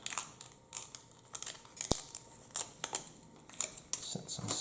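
Adhesive tape being torn in half for a wand-making craft, a short series of sharp ripping and crinkling bursts, close and fairly quiet, with brief pauses between them.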